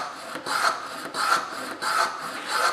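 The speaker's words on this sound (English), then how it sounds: "you can plow end grain" Plow plane shaving pine end grain by hand, four steady rasping strokes in a regular rhythm with brief pauses between, close and moderately loud, no talking.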